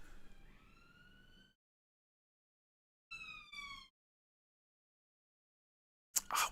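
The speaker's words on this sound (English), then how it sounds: "Siren!" Three short siren sound effects, each a rising electronic wail, are separated by silence. The first two bursts are clear, and a final brief blast of noisy sound cuts off at the end.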